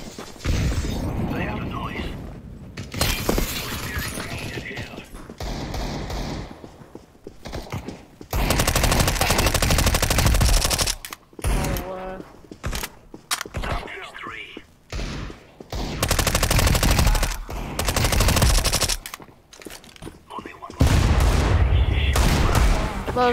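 Rapid automatic gunfire from Counter-Strike 2, loud and close, coming in long bursts broken by short pauses, with a voice chatting over some stretches.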